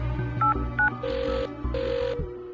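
A telephone rings as a sound effect in a Hindi detective audio story, with short chirps followed by two longer electronic ring bursts over a soft music bed.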